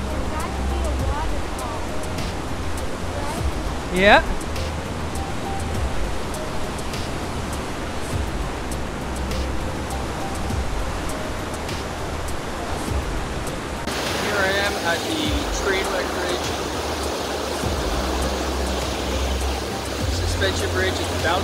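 Rushing water of a waterfall beneath a suspension bridge on a forest trail near Whistler, a continuous broad roar of white noise throughout, with people talking briefly over it.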